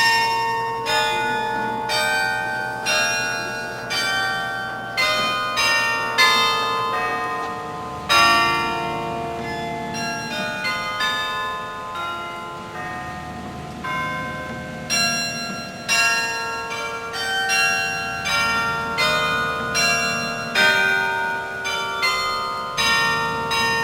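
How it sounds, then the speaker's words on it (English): Carillon bells ring in a college tower at Westminster, a loud, close sequence of overlapping struck tones with long ringing decay, sounding alone. "here we are with the bells"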